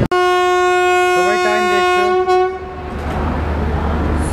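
Train at Chennai Egmore station before departure sounds a loud, sustained horn tone, then breaks off into a rushing hiss of air and station rumble; a voice is heard briefly under the horn.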